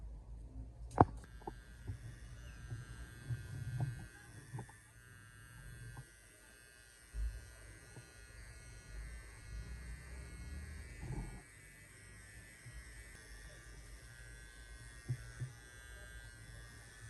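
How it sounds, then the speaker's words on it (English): Electric hair trimmer lining up a front hairline during a mid-round fade on a low cut, a steady close buzzing hum that carries on throughout with small shifts as the blade moves, a few light clicks and no talking. "line up the front hairline using your trimmer"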